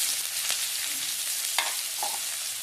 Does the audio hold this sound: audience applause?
no